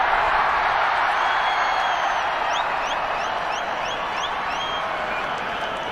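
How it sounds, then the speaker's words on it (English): A large crowd at a cricket stadium cheers and applauds after a wicket falls, a dense continuous roar that stays loud throughout, with whistles rising above it. "The crowd's very happy."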